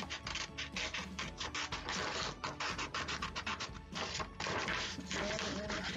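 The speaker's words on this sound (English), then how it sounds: "I'm gonna go ahead and grab my scissors and cut the donkey out" Scissors cut a paper donkey template for a piñata outline, giving rapid, closely spaced crisp snips and scratchy rustles that run almost continuously at close range.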